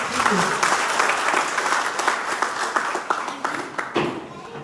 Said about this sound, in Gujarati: એક તાળીઓનો ગણગણાટ થઈ જાય